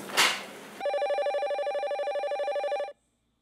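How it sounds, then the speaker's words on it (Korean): After a brief noisy rustle, a telephone rings with a steady pulsing electronic tone for about two seconds, then stops abruptly into silence. "전화 받고 오겠습니다."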